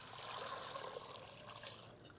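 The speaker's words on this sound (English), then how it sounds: "I'm just going to add the water in." Water pours from a stream into a pot of potatoes on an induction hob, a steady close splashing trickle with a hollow gurgle, running continuously and alone.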